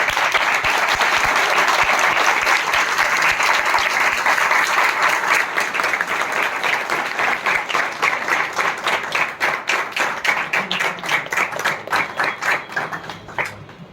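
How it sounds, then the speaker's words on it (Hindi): A theatre audience gives loud, dense applause for the director of the stage play Bichchhu after the performance, and the sound thins toward the end into distinct individual claps. "इस नाटक के निर्देशक चैतन्य आर्ट्स के लिए जोरदार ताली"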